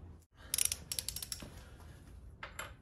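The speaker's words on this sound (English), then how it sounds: "We're just gonna loosen this off a bit so we can slide the rear wheel back." A wrench loosens the rear wheel axle on a motorcycle being reassembled, giving a few bursts of sharp ratcheting clicks and metallic clatter near the mic, with a brief pause and another short burst at the end.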